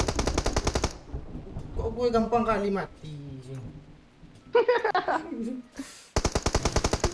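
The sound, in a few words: gunfire in PUBG Mobile video game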